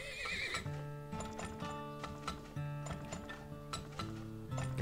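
Horses whinny and hooves clip-clop in a rhythmic trot in the video game Turmoil, with game-style tonal sounds layered over them, steady and moderately loud.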